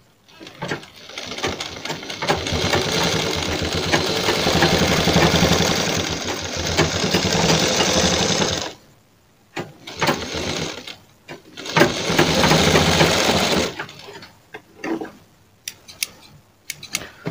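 A sewing machine stitches blouse pieces in long, fast runs, stopping abruptly between bursts with short quiet gaps and brief handling clicks, loud and close with no talking.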